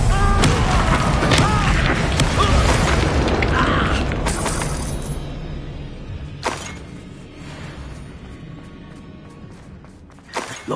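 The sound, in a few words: Bombarda explosion spell in a Harry Potter video game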